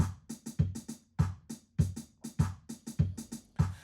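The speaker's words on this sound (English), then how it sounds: "You've just got your kick, clap, and a little sort of closed hi-hat pattern." A quiet programmed drum loop of kick, clap and a light closed hi-hat pattern ticks along in a steady, repeating groove for a few bars.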